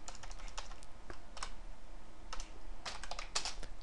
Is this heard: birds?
no